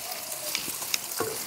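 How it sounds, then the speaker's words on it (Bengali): Onions fry in oil in a pan over a clay stove, giving a soft, steady sizzle with a few light clinks of stirring, close and fairly quiet over a brief span. "এটা পেঁয়াজটা ভাজা হতে থাক"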